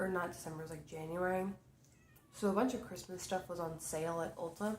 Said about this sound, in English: I don't know if you guys can hear him down there, but he's meowing.